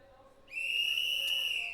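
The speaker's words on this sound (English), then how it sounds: "You'll hear a whistle at the beginning of every discipline and at the end." A referee's whistle starts a STIHL Timbersports heat at the Nordic Pro Championship, sounding as one sustained, shrill blast of about a second and a quarter that rises out of quiet outdoor background.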